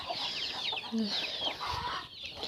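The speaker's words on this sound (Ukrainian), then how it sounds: "І тут курчатка." Chickens and young chicks cluck and peep close by in a barn strewn with hay, a busy mix of high chirps and low clucks.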